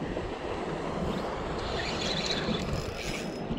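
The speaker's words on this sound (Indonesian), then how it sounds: "ombaknya gede" Big ocean waves churning steadily around a boat during ultralight casting, a loud continuous wash of surf and water noise with wind buffeting the microphone, no talk.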